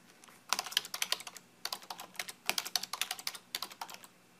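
A password is typed on a computer keyboard: close, crisp clicking keystrokes in quick bursts separated by short pauses, with no speech.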